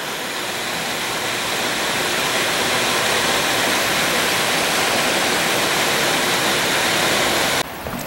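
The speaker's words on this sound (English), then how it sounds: "you get a little bit of a view of the waterfall" Steady broadband rush of water from a waterfall seen from a trail viewpoint, a constant dense roar throughout with no speech.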